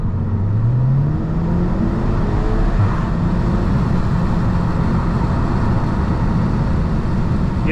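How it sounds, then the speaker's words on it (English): A car accelerating hard in a test pull and shifting gears automatically, its engine note climbing steadily and stepping down at each gear change, loud and close with steady road and wind roar throughout. "the car changes gear by itself"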